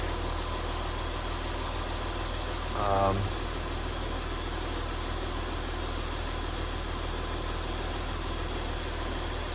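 A 2008 Acura TL Type S idles with a steady low engine hum and broad noise, a brief bump partway through, and a voice speaking over it.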